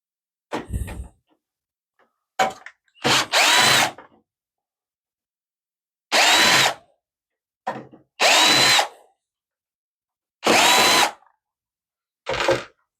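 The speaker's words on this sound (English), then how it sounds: "So let's get the screws out now." A power drill buzzes in a string of short, uneven bursts, some longer and some brief, while backing screws out of a Gateway computer during a teardown, loud and near with silent gaps between.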